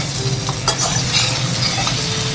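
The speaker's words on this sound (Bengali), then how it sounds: "এখন খুব ভালো করে মাংসটাকে আমি ভেজে নিই" Mutton fries with spices in a pan, a loud dense sizzle running throughout, with close scraping and stirring sounds layered over it.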